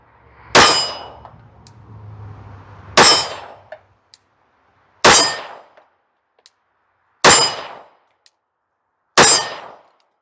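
Five handgun shots fired with a thumb mitigator accessory, each a sharp, loud crack with a ringing tail, spaced about two seconds apart and heard close with silence between them.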